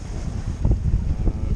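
Strong headwind rushing over a sailing boat at sea, a steady low roar of wind buffeting the microphone with waves washing along the hull, no speech.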